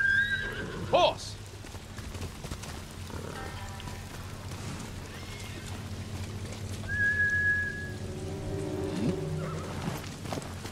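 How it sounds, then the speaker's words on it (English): A horse in the Ghost of Tsushima video game whinnies once loudly near the start, then faint hoof clatter and ambient wind carry on beneath a soft whistle-like tone, with no clear talk over it. "Horse!"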